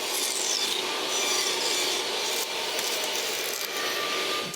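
A table saw flush-trims a plywood panel riding across a jig, giving a steady loud whirring cut with a brief dip midway, no voices.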